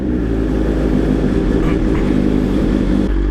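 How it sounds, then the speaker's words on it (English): A BMW S1000RR motorcycle engine runs close by with a loud, steady rumble that holds throughout. "let's turn on the bike and get going"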